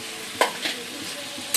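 Potatoes frying in a pan, with a few sharp stirring scrapes and brief sizzling bursts over a steady low hiss, heard close.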